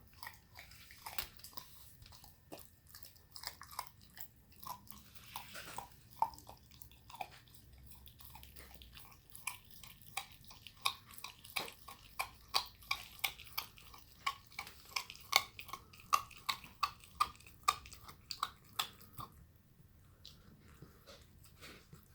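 An eight-week-old puppy chews and crunches through a raw turkey neck on a porch, giving off a steady run of wet crunches and bites that grow louder and more rhythmic toward the end, with no talking.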